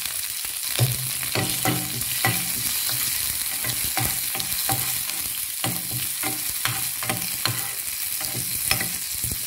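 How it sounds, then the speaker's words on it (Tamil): Vadagam and curry leaves tempering in hot oil for sambar, a steady close sizzle broken by frequent sharp crackles and stirring clicks throughout. "இப்போ வடகத்தையும் கருவேப்பிலையும் போட்டு தாளிச்சிக்கலாம்."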